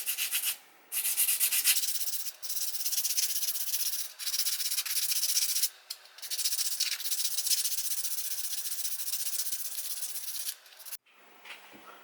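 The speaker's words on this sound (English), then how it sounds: "I'm just going to give it a quick little sand to make it smooth with this 220 grit" Close, steady scratchy rubbing of 220 grit sandpaper over a small UV-cured fishing lure, in long continuous strokes with brief pauses between passes, no talking.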